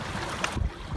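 A canoe pushes through rough water on a solo wilderness trip among waterfalls, with wash, splashing and wind noise rushing against the microphone throughout, close and loud.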